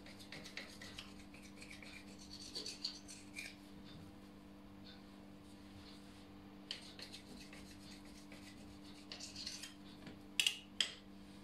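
A knife slices through soft cozonac dough into strips with quiet, scattered rubbing and scraping strokes against a board, faint and close over a low steady hum.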